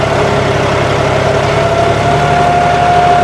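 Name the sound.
John Deere 5210 tractor engine pulling a cultivator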